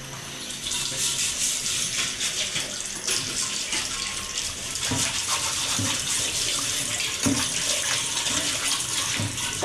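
Water runs steadily from a tap while a tawa griddle is rinsed beneath it, a close, continuous splashing with a few soft clanks of the metal pan.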